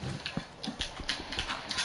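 Horse hooves clop steadily while a horse is ridden in a video game, a quick regular rhythm of soft thuds over a hissy background.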